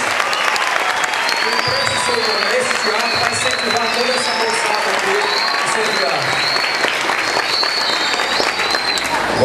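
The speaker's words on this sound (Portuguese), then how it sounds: "nós vamos recebê-lo com uma calorosa salva de palmas" A theatre audience gives steady, dense applause that continues throughout, with a voice speaking over the clapping.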